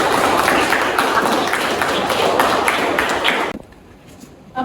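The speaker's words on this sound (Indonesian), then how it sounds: "Tepuk tangan dulu buat Lisa." A classroom of students applauds a classmate, dense clapping that runs steadily for a few seconds and then cuts off into quiet.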